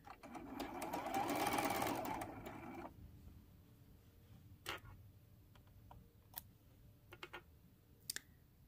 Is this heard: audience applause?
no